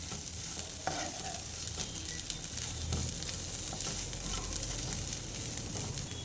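Ivy gourd, fried peanuts and cashews being stirred and fried together in a pan, giving a steady close sizzle with scraping stir noises throughout and no talk.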